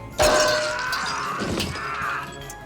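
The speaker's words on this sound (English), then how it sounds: "The ornaments were made of candy glass, but they could still hurt if someone slammed their feet down on top of them." Christmas ornaments made of candy glass shatter underfoot during a barefoot film stunt, a loud sudden crash followed by tinkling, crunching fragments that fade over a couple of seconds.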